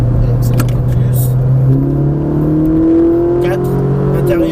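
A car accelerating under instruction during a driving lesson, the engine note climbing steadily and then shifting higher, heard from inside the car over a continuous drone.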